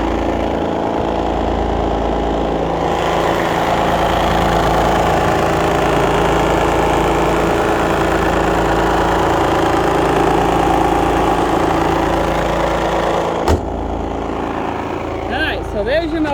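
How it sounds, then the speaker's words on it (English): A 2005 VW Jetta TDI diesel idles under its open hood, a loud, steady close rumble that holds throughout with one brief knock near the end. "It's a diesel."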